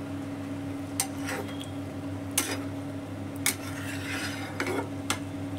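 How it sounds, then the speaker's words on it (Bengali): Bottle gourd and prawns stirred in a wok, with occasional sharp scrapes and clinks of a utensil against the pan, spaced a second or so apart, over a steady low hum and faint sizzle. "দেখতেই পাচ্ছেন লাউ চিংড়িটা আমি ছুঁকে দিয়েছি কড়াইয়ে"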